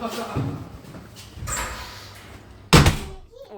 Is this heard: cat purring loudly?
no